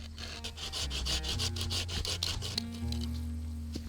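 A hand saw cuts through a wooden stake to length for a bow drill set, close and steady, with a quick rhythmic run of rasping back-and-forth strokes over a low background hum.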